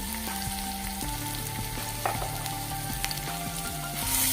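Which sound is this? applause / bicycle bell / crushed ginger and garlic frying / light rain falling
crushed ginger and garlic frying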